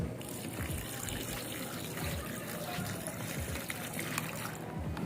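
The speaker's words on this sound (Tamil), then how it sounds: "நம்ம ஒரே ஒரு மேகிக்கு எவ்வளோ தண்ணி ஊற்றணுமோ அந்த அளவு ஊற்றிக்கலாம்" Water pouring steadily onto instant Maggi noodles in a container, a continuous close trickling and splashing stream with a faint voice underneath.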